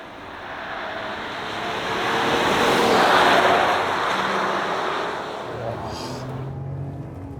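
A RAM 1500 pickup accelerating hard in sport mode on a ride and handling track, with road and engine roar swelling to a peak midway before easing off, while a person talks.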